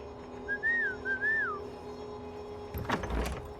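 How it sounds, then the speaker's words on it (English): A two-note whistled sound cue from The Falcon and the Winter Soldier, rising and falling in two short phrases, followed by a couple of dull thuds like a door closing. "I remember that whistling sequence happened in the last episode"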